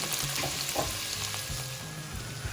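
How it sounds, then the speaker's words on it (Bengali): Prawns frying with chopped garlic and ginger in olive oil in a frying pan: a continuous crackling sizzle with a few soft stirring knocks, close and moderately quiet, with no voices. "এবং প্রনগুলোকে আমি এখন ফ্রাই প্যানে দিয়ে দিলাম।"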